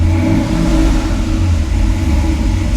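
An EFI V8 in a Toyota pickup revs loudly as the truck pulls away, giving a deep, steady engine rumble that swells and dips slightly throughout.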